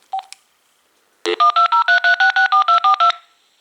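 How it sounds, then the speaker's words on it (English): An AT&T CL82301 phone dials out on speakerphone: a quick run of about thirteen evenly spaced DTMF touch-tone beeps, loud and close, following a couple of short clicks. "Now let's go ahead and call it up again using the speakerphone."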